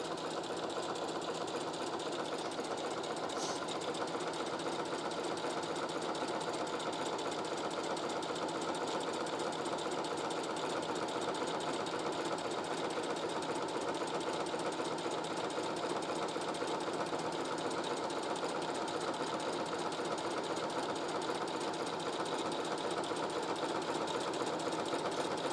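A sewing machine runs continuously while stitching a cosplay costume, a steady fast mechanical whir and rattle holding at an even level throughout, close and without pauses or speech.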